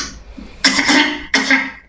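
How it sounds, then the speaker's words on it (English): Two loud, close coughs follow each other in quick succession, harsh and breathy, with nothing else around them. "Just then, the Queen heard a cough."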